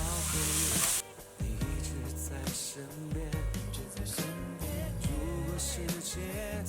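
Eggs and green peppers stir-fry in a hot wok with a loud, continuous sizzle, broken by repeated scraping and tossing strokes of a spatula against the metal, heard up close with no talk.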